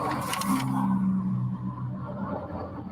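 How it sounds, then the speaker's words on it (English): A car with a loud exhaust rumbles nearby, a deep throaty drone that swells briefly with a whooshing pass at the start before settling into a steady low growl. "Loud exhaust."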